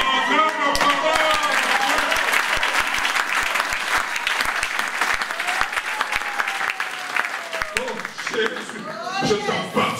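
A church congregation applauds with sustained, dense clapping throughout. Voices speak and call out over the applause.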